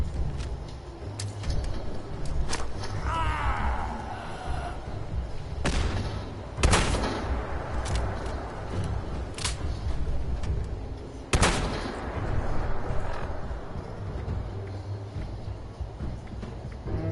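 Gunshots from a player's gun in the Fallout 76 video game ring out as spaced, sharp cracks over a low rumbling game soundscape, with several isolated loud blasts standing out from the steady background.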